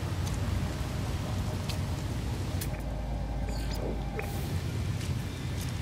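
Steady toxic rain pours in the space exploration game No Man's Sky, a dense continuous hiss and patter filling the whole stretch without pause, loud and close.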